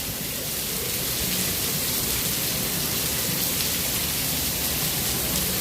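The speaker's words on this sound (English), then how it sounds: "When the rain stops and the lightning goes away" A heavy downpour at Epcot makes a dense, unbroken hiss that stays close and steady, with no distinct thunderclap and no voices.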